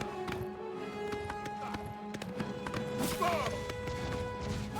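Horse hooves in the Oblivion Remastered video game clip-clop in a steady, fairly faint series of hits under a layered game soundscape, with a brief whinny-like sound near the end and no speech.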